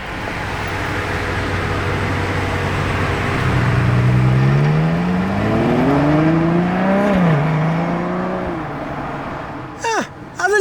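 A grey Ferrari Purosangue in Maranello passes close by, its engine note rising and sweeping through as it drives past, loud and continuous, with a brief sharp noise near the end.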